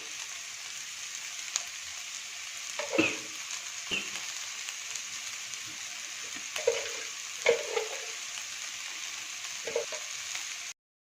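Raw jackfruit vegetable dish being stirred in a pan, a constant soft sizzle with occasional scraping and knocking stir strokes, close up and without speech.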